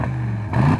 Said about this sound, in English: Aston Martin has tuned the exhaust for a very fruity sound